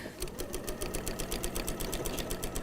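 A sewing machine topstitches a fabric napkin with a quick, regular mechanical chatter, running steadily up close.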